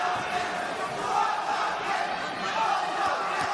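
A boxing arena crowd roaring and cheering through a bout between Otabek Kholmatov and Raymond Ford, a continuous dense swell of voices rising and falling slightly, loud and close.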